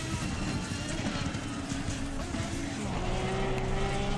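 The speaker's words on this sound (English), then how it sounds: "Just listen to that Porsche." Porsche race car engine in the racing game Assetto Corsa Competizione, a loud, continuous high-revving roar with rising pitch sweeps as it accelerates and shifts gears.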